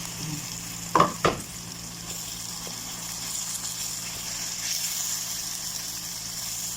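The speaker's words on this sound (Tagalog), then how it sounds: "ilagay natin itong ating sahog mga chicken breast so minarinate ko na siya sa lemon, turmeric at saka asin" Chicken breast marinated in lemon, turmeric and salt sizzles steadily in a pan, with two sharp clanks of a stirring utensil near the start, then continuous frying hiss.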